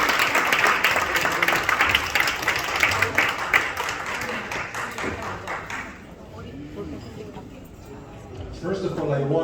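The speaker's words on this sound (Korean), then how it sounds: "박수로 맞아주시기 바랍니다." Audience applause welcoming a former Israeli deputy minister as a lecturer at a talk on Korea–Israel alliance, dense clapping that fades after several seconds before a voice begins speaking.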